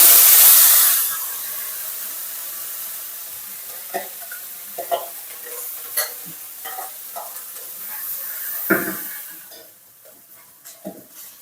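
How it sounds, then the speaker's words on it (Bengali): Ground spice paste for a shankar fish curry drops into hot oil with a loud burst of sizzling that settles into a softer steady fry, with scattered scrapes and pops from stirring and no voices. "এই তেলের মধ্যে আমি এবারে এই বাটা মশলাটা ছেড়ে দেবো"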